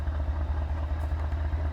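Subaru BRZ engine idling in the BeamNG.Drive driving game, a low, steady rumble with a faint rhythmic pulse, close and unbroken.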